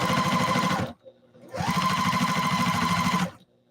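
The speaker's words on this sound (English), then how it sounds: "sew it down, make sure it's all tucked in nicely" A sewing machine stitches down a folded fabric edge in two fast, steady runs of rattling needle strokes, close and loud, with a brief pause between them.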